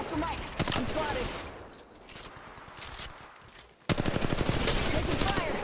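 Dense bursts of automatic gunfire crackle through a firefight in the mobile battle royale game Apex Legends Mobile, with rapid volleys that ease off briefly and then resume louder, mixed with footsteps and faint in-game voice callouts.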